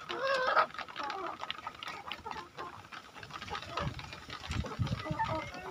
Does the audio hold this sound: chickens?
yes